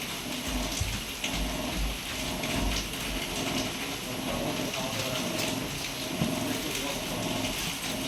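Steady rain patters throughout, a dense wash of hiss with low rumbling underneath and faint voices or activity in the background.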